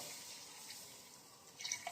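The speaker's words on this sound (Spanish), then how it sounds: "Echamos un poquito de agua" Water poured into a cooking pot of frying meat for a Peruvian quinoa stew, a quiet steady splashing stream that grows a little louder near the end.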